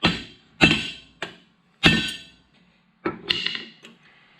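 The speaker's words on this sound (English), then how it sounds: "take and hit good and flat down on the rivet, good and solid." Sharp metallic hammer blows strike rivets on the knife of a Massey Ferguson #42 sickle mower, about six close, solid hits in an uneven rhythm, each ringing briefly before quiet gaps.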